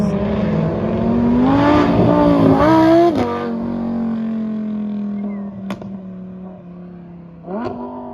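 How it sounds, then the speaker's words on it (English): A Lamborghini Huracan engine revs hard and climbs in pitch at a car show, then drops back to a steady idle, with sharp blips of throttle toward the end. "Followed by a Huracan, making some amazing noises."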